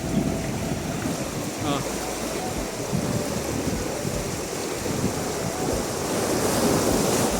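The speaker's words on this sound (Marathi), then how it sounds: "बघा पाणी कसलं पुलाला दाबत असणार आहे बघा इथे स्पीडमध्ये येते" Krishna river floodwater surging against and over the Amanapur bridge, a loud, steady broadband roar of rushing water that continues without a break throughout.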